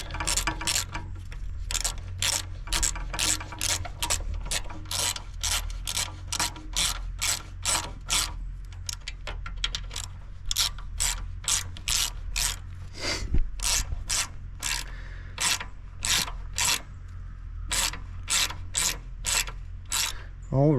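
A ratchet with a 14mm socket tightens the starter on a 1968 John Deere 140 tractor, giving a long run of evenly spaced, close, sharp clicks in steady strokes.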